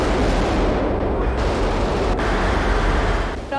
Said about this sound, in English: All these explosions and gunfire.